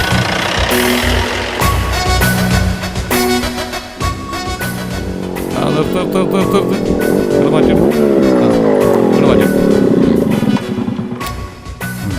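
A car pulls away loudly with engine revving and tires squealing, the motor roaring up and down over several seconds, with people speaking over it.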